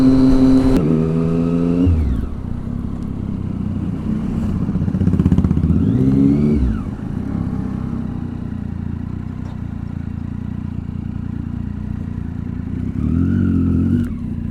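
A motorcycle engine runs loud and near on an open road, rising and falling through several revs and gear changes, with a steady roar and rush of passing wind between the pulls.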